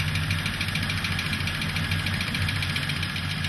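A long-dormant Ford Galaxie 500 engine idles steadily up close after 35 years of sitting, its low rumble laced with a faint ticking lifter clatter, with no voices over it.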